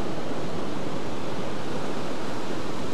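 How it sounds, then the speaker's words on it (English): Massive ocean waves pounding near a lighthouse, a loud, continuous roar of surf with wind noise and no voices. "The waves are just getting massive now."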